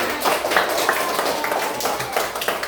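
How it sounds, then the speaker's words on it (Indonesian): Hands clapping in a classroom open-class session, a short burst of claps from a group of students and teachers with a somewhat uneven rhythm, moderately loud and close, with no talk over it. "Kita tepuk tangan untuk kita semua."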